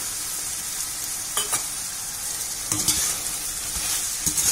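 Tomatoes go into a hot pan for Chettinad chicken curry and fry with a steady, bright sizzle. A few scrapes of the spoon come through as the mixture is stirred, with no talking.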